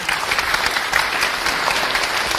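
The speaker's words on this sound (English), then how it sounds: "Give her a round of applause just to make sure." A live crowd at a street magic show breaks into loud, dense applause, many hands clapping steadily and close by without pause.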